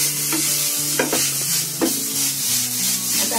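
An apple mixture cooks in a pan over medium gas, a steady close sizzle broken by several spoon scrapes and knocks against the pan.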